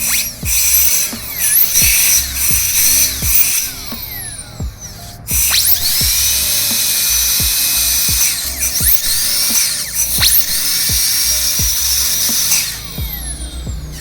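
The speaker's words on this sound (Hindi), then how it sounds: "दांत के बिल्कुल सेंटर में रख के ड्रिलिंग होती है।" High-pitched dental drill whining continuously while boring into the center of a tooth during root canal treatment, with steady loud pitch shifting slightly as pressure changes, briefly dropping out midway before resuming.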